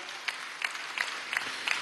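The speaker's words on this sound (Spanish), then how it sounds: "Muy bien, un aplauso a Pedro Infante" Brief applause at a government event with workers' councils in Venezuela: a soft, steady patter of clapping from a gathered audience with a few sharper claps standing out, and no speech over it.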